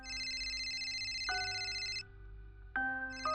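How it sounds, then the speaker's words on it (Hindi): Electronic mobile phone ringtone for an incoming call, a loud steady melodic tone stepping between pitches, with a brief dip and a renewed phrase near the end, heard alone. "अरे मम्मी का फोन।"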